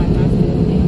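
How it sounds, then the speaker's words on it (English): A Spirit Airlines Airbus A321 jet on its takeoff roll, heard from inside the cabin as a loud, dense low engine roar with rumbling, brief and continuous. "Oh, wow, takeoff roll, let's go."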